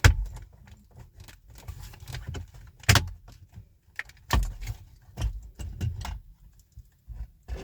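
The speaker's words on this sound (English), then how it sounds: "you will hear the clips popping loose as you go" Clips on a car interior panel of a Kia Sportage pop loose as the panel is pulled away, sharp snaps and clicks at irregular intervals with rustling plastic in between, close-up and without speech.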